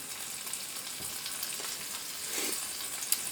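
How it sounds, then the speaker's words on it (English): Steady, quiet sizzling of Yukon Gold potatoes frying in a pan, a soft continuous crackle with occasional small pops, no voices. "that sound you hear is Yukon Gold potatoes frying."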